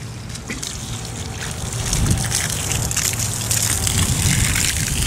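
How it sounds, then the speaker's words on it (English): Water being poured onto seven shovels of sand to settle it into a void at a grave site, a steady trickling gush that grows slightly louder and continues throughout, with some outdoor wind noise. "I'm gonna go ahead and water this in."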